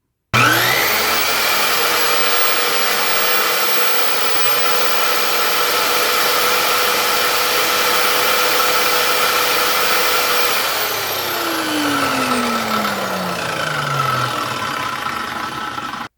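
A JELLAS 20 volt cordless circular saw with a 6.5 inch blade spins up and runs free with a loud, steady high whine, then winds down as the pitch slides lower near the end.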